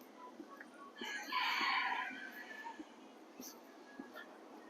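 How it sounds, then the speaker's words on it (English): A rooster crows once in the distance, a drawn-out call rising over faint outdoor background noise with occasional small knocks. "I always thought that roosters only make noise in the morning."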